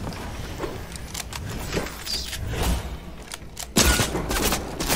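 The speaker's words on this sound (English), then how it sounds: "They're shooting me!" Bursts of Fortnite game gunfire crackle in a rapid fusillade, with sharp shots scattered over the whole stretch and a louder, closer volley near the end.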